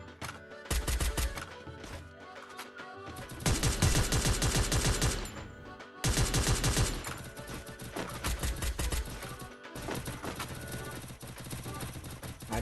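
Rapid bursts of gunfire from the Free Fire mobile shooter game, loud and dense, with a few short pauses between long volleys of repeated shots.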